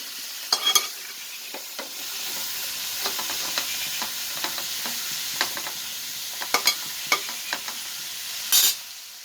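Ring-shaped slices of snake gourd for poriyal stir-fry in a pan with a steady soft sizzle, punctuated by scattered sharp clicks and scrapes of a spatula stirring against the metal, fairly close and with no talking.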